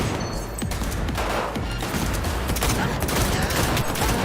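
Gunfire in the video game Cyberpunk 2077: dense, continuous shooting with sharp cracks over a loud, busy battle bed, sustained for the whole span.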